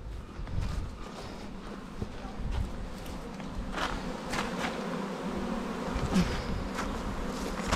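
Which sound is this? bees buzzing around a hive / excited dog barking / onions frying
bees buzzing around a hive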